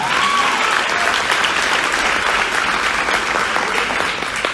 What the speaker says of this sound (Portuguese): celebra com um aplauso ao Senhor Jesus